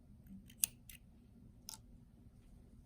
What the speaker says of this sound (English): And then we trim the end.